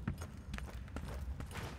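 Horse hooves in the Dungeonborne video game sound as a quick run of soft clip-clop knocks, faint and brief, with a few uneven thuds.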